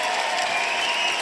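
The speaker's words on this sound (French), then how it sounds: "s'il vous plaît, vos applaudissements pour Hélène Connard" Audience applause at an ISKA K1 kickboxing world championship event, a steady dense wash of clapping filling the hall without a break.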